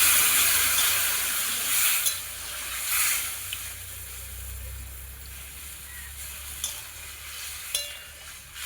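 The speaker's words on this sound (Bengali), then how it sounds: "জল দিয়ে দেবো।" Water going into a pan of frying radish and potato curry, a broad soft hiss and sizzle that slowly settles, with faint clinks of stirring and no talk.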